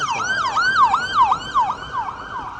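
Sirens from ambulances, fire trucks and police cars in New York at night, a steady looping wail that rises and falls again and again at a moderate distance, loud and continuous with no talking.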